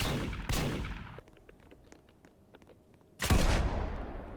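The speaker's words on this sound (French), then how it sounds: "je vais prendre en vrai le fusil à pompe pour me débarrasser d'eux" Pump shotgun fired at enemies in a first-person video game, with two loud close blasts well apart, separated by quieter clicks and shuffling handling sounds and no talking.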